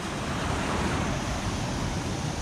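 Ocean waves breaking near the shore on a calm day at the beach, a continuous broad wash of surf, fairly loud and steady with no voices.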